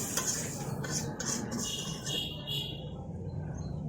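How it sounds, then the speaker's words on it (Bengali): Soybean chunks being stirred and sautéed with a little water in a pan, a steady scraping and stirring with faint sizzling, close and continuous, with some clinks of a utensil against the pan. "এই সয়াবিন অনেক ভালো করে কষিয়ে নিব"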